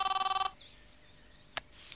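A cartoon telephone in Fireman Sam rings with a rapid electronic trill for half a second, then goes quiet before a short click.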